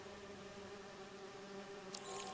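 Bees hum in a steady, faint buzz with a constant droning pitch, joined near the end by a brief brighter flutter, with no voices.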